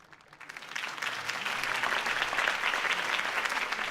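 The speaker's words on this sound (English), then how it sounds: "If only Mr. Wayne, my campaign's largest backer, could have heard that applause" Steady applause from a large crowd in the video game Batman: Realm of Shadows, building quickly at the start and then holding as a dense, even wash of clapping with no voices.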